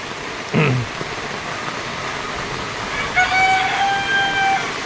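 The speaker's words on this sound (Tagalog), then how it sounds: "Talagang ulan, ang lakas" Heavy monsoon rain falls steadily beside a flooded fishpond in a steady broadband hiss, while a rooster crows briefly near the start and a longer crow-like call rings out near the end.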